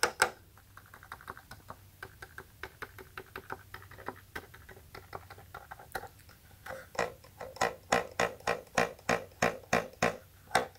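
Plastic keys and pads of an AKAI MPK Mini MIDI keyboard clack in quick, uneven runs of clunky taps, close and fairly quiet at first, then growing louder and more regular toward the end, with no talking.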